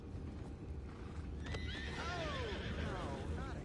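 A horse neighs in Red Dead Redemption II, a descending whinny rising over a steady low rumble of background noise, fairly clear and close.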